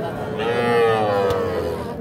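A young bull calf at the Ambari cattle market lets out a single drawn-out, close moo, with faint crowd murmur behind it.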